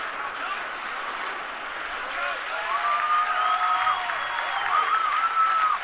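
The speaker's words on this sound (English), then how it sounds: "I don't know why they're applauding." A crowd applauds at a record skydiving jump made without a parachute from 25,000 feet, moderate continuous clapping and cheering heard at a distance while a voice talks over it.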